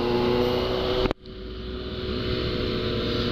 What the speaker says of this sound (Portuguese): vou pegar a Z650 do Felipe, fazer um test ride nela aqui pra vocês